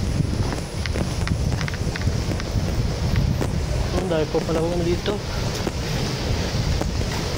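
Sea waves breaking near the shore, heard as a steady broadband wash mixed with wind buffeting the microphone, with a person talking briefly over it midway.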